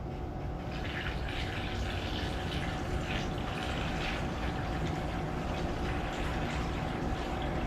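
Fresh water pouring steadily into a container during a Hotrod V8 350 engine build, a continuous close, even rushing splash with no gaps.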